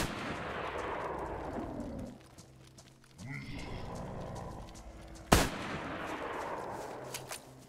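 A single sharp, loud shotgun blast rings out near the listener in the survival game DayZ, rising abruptly over rustling background noise, with voices talking faintly around it.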